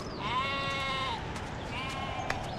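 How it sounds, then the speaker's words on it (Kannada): A sheep gives two drawn-out bleats, the second softer, close by in a quiet rural setting with no talk over it. "ಪಾರು ಕುರಿ ಮೇಸಕ್ ಬಂದತ್ತೆ"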